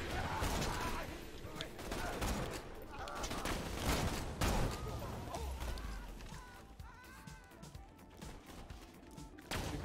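Gunfire in the video game Borderlands 2, rapid bursts of shots and impacts in dense clusters with some crashing effects, while voices talk over the action.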